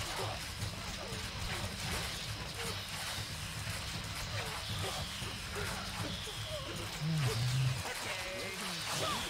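Horse hooves clip-clop steadily in Stronghold Definitive Edition during a castle siege mission, a continuous busy game soundscape with someone talking over it.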